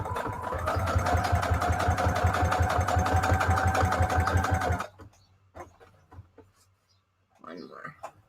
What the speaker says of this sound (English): We got the straight stitch still going on.